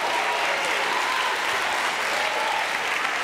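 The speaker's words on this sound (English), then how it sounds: "give him a hand clap of praise" A church congregation claps in praise during a sermon, a steady, full wash of hand clapping that holds at an even level from start to finish.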